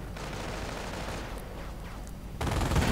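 Battlefield gunfire in a video game, with a mortar half-track and infantry exchanging shots: a steady crackle of distant rifle and machine-gun fire that swells into a louder, denser burst near the end.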